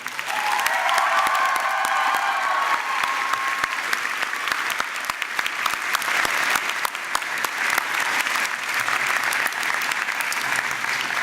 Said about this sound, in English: about a big round of applause for the faculty on stage as well?